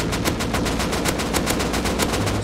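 Rapid automatic gunfire in the game Rust, a steady stream of loud, evenly spaced shots filling the whole stretch, fired at players behind a stone wall.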